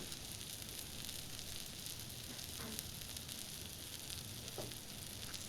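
A steak sizzles and fries steadily in a pan, a close, continuous hiss and crackle with a few faint clinks of a utensil.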